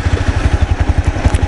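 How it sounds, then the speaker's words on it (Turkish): A motorcycle engine running in neutral after starting, a loud, close, steady rhythmic idle thumping with rapid even pulses throughout. "Öncelikle boşta motor çalıştırıyorum."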